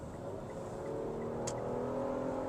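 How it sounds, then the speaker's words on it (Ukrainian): Mitsubishi Outlander 3.0 V6 engine held at high revs around 6000 rpm inside the cabin, a steady loud drone with road noise and a brief shift near the end. "6 тисяч обертів, наступна передача."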